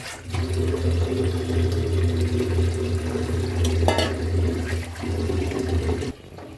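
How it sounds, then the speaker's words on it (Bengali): Water is poured into a pan of pabda fish curry with black cumin, a loud, steady rushing stream lasting about six seconds before it stops abruptly. "এরপর আমরা জল দিয়ে নিচ্ছি।"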